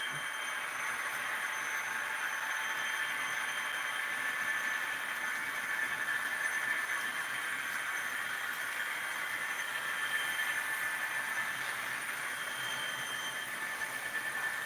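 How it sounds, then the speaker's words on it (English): A steady metallic hum and whir of model trains rolling along track, with faint squeals and hiss, continuous and fairly quiet. "Now we're just going to run trains till I get tired of it."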